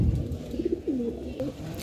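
Saharanpuri pigeons for sale coo in a few soft, rounded calls close by, set against a low background murmur.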